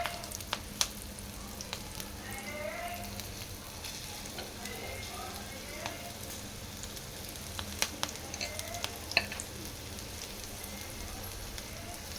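Mirchi bajji, battered chili fritters, deep frying in hot oil: a dense, continuous bubbling sizzle close by, dotted with occasional sharp crackles and pops.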